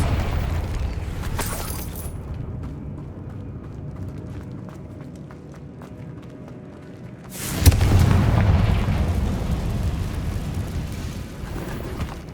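A Confringo fire spell blasting in Hogwarts Legacy lands as a loud, deep explosive boom after a quieter stretch, followed by a sustained rumbling roar.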